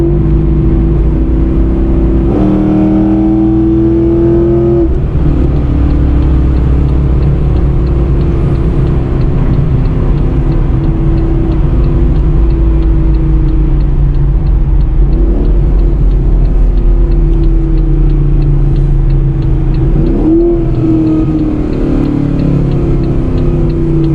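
Pontiac G8 GT V8 with its old exhaust setup and a Camaro rear end, holding steady near 2200 rpm: a loud, continuous deep rumble and drone with brief revving swells, no talking.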